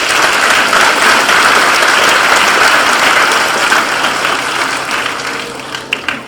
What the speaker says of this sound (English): can all of the students and staff, if we can give the parents and guardians a round of applause